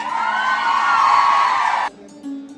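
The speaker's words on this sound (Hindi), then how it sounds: "तो आप एक बार फिर जोरदार तालियों से और थोड़ी हल्ले गुल्ले के साथ स्वागत" An audience cheers and whoops in welcome, a sustained loud crowd roar that stops abruptly, followed by a brief quieter sound.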